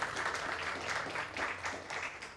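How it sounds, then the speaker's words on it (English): Conference audience giving a round of applause, a brief, fairly soft patter of many hands clapping with no voices over it. "Big round of applause"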